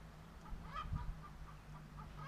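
Soft, faint clucking from chickens, a few short calls scattered over low background noise, with no voices.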